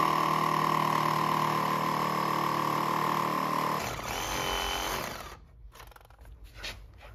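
A Ryobi battery-powered saw cutting into a large wooden post runs with a steady loud whine, then shifts pitch under load and cuts out, leaving scattered knocks and handling sounds.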